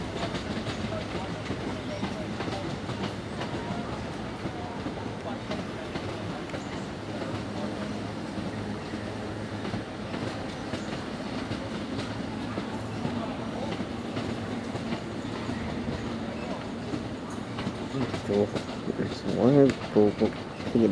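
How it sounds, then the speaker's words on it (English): A Class 442 electric train rumbles steadily with a continuous motor whine and rolling wheel noise, loud and close throughout, ending with brief squealing tones. "now I got a 442 tone. That's the train that I was on."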